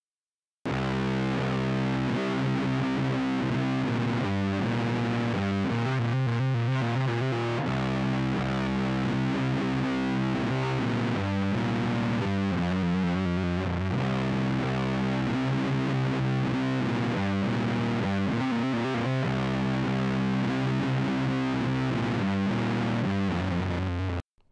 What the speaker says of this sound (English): When we're playing it with the trills, we're trilling between the perfect 4th and the flat 5th of the blues scale.